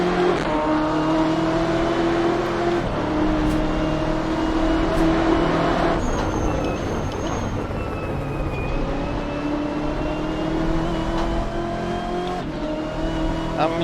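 The Orica LMP prototype race car in Assetto Corsa, running at Road Atlanta, screams through repeated rising gear pulls with abrupt shifts and lifts, along with brief tire squeal. The engine stays loud and close throughout, with a voice talking over it.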